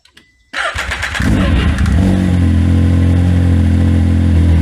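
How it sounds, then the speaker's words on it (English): A 2019 Can-Am X3 side-by-side engine cranks and fires after a short silence, then settles into a loud, steady idle with a deep rumble that continues to the end. "I'll have Sherry fire it up, and hopefully it just doesn't disintegrate."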